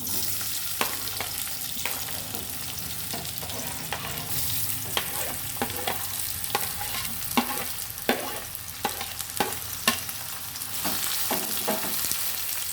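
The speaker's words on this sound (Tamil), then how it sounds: "எண்ணெய் நல்லா காஞ்சிருச்சு இப்போ நம்ம வந்து வெங்காயம் போட்டுக்கலாம்" Sliced onions for onion thokku frying in hot oil, a constant close sizzle broken by sharp scraping strokes of a spatula as they are stirred, with no one talking.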